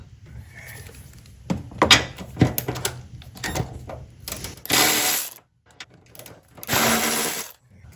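A power tool removes bolts from the middle brace of a GR Corolla, with loud close bursts of ratcheting and whirring separated by short pauses, two longer buzzing runs standing out near the end.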